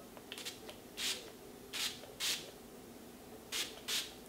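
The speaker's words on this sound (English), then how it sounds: "This is the Natural Finish setting spray." Wet n Wild Natural Finish setting spray is misted in several short bursts, some in quick pairs, heard clearly over a quiet background without talk.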